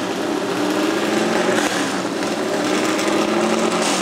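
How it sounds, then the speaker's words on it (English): NASCAR stock cars, including a Ford, firing up and revving their engines at the 2.5-mile triangular Pocono oval in Pennsylvania, a steady blended mechanical drone with no talk over it. "you hear the cars cranking up here"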